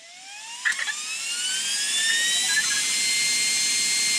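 A Game Changer RC fan is switched on and spins up, its whine rising and settling into a loud, steady rushing drone with a few brief clicks early on.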